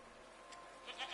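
Goat-like creatures bleat in the game Season: A Letter to the Future, a few short bleats rising near the end of a quiet, hissy outdoor scene.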